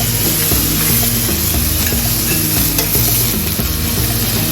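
Tortillas fry in hot oil in a pan, giving a loud, close, steady sizzle with a rhythmic scraping churn as they are turned; no one speaks.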